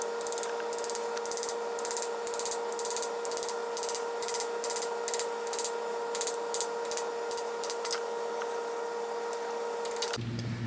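Metal 1/4 inch socket extension tapping a seal into place on a transmission during an SC400 CD009 six-speed manual swap, a steady run of about two dozen sharp, close ticks in even rhythm, ending with a brief shift in sound.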